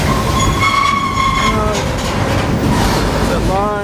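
A Burlington Northern freight train pulls out of Klamath Falls heading south, a steady loud rail rumble with clattering cars and squealing wheel or horn tones rising and falling throughout, with a voice speaking over it.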